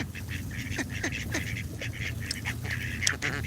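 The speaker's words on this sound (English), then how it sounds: "Now they're making duck noises." Ducks quack over and over in a noisy cluster, near and fairly loud against a steady background rumble, with no talk.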